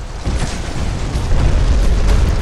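A heavy rumbling crash with a deep, sustained roar, loud and close, as a giant statue head collapses amid debris in Dark Souls II: Scholar of the First Sin.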